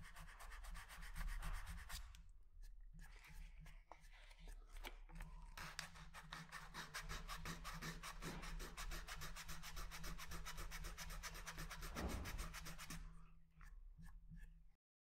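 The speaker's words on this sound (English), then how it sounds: "Come down to a lighter grade of sandpaper." Sandpaper rubbing along the thin veneer edges of an acoustic guitar kit body, a steady close rasping scrub that continues for about thirteen seconds.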